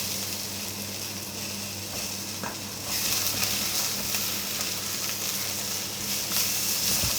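Butternut squash hits a hot pan for a lentil curry, the steady sizzle jumping louder as the pieces go in, then continuing as a bright frying hiss.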